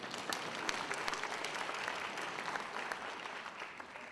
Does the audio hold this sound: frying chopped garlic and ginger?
no